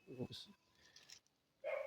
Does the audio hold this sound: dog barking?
yes